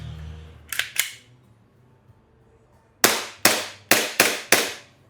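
An airsoft pistol with a metal slide and polymer frame fires two quick shots, then after a pause lets off five more in a loose burst. The cracks are close, sharp and snappy against near silence.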